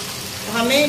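Red chillies and garlic frying in a pan for a Kolhapuri chutney, a steady close sizzle that grows louder as they are stirred and turned, with no talking.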